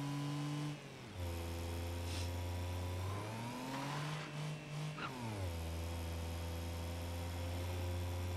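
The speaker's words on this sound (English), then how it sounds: "do a little wheel spin burnout" A small car revs through a short wheelspin burnout, engine pitch climbing and dropping in several surges with a brief tyre scrabble, loud and close, no voices.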